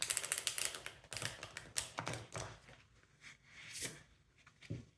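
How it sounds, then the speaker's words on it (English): Tarot cards shuffled by hand, with rapid riffling and tapping bursts that come and go, close and fairly quiet, with no talking. "I'm going to shuffle the cards like this in order to get some reversed as well."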